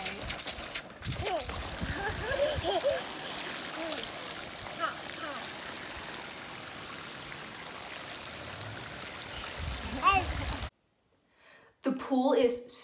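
A child splashing and playing in an inflatable kiddie splash pool fed by a garden-hose sprinkler in a backyard, with running, trickling water throughout, scattered small splashes and voices over it, then a brief silence and a final burst of sound.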